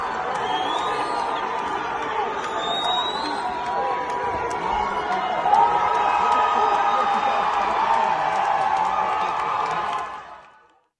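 Protesters chant as one loud mass, swelling slightly midway with some cheering and clapping mixed in, then fading away over the last second.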